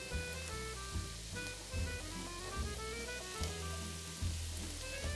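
Chopped soffritto vegetables sizzle in hot olive oil in a pan, a soft, steady hiss beneath louder background music with a looping melody.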